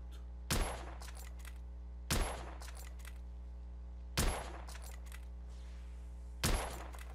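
Four loud, widely spaced gunshots from a gun in the video game The Order: 1886, each a sharp crack with a brief ringing tail over a steady low hum.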